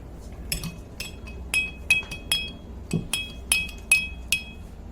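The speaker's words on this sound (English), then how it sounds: "Spoon to stir the food color into the oil." A metal spoon clinks repeatedly against a glass jar while stirring food coloring into oil, bright evenly spaced taps about twice a second, close and clear with no talking.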